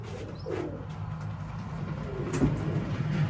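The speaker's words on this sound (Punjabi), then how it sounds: "ਆ ਗਿਆ ਆਪਣਾ ਧਮੋਟ ਵਾਲਾ ਦੂਜਾ ਕਬੂਤਰ" A pet pigeon coos softly a few times in a quiet backyard loft, with faint low background rumble and a brief sharper noise near the end.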